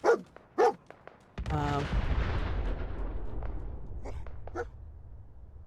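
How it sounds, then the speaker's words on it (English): Explosions in a video game: after a few short sharp bangs, a loud booming blast erupts and rumbles on in a long decaying roar, with more sharp bursts near the end. "More explosions."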